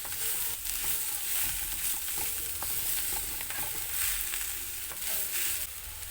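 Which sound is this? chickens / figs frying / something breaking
figs frying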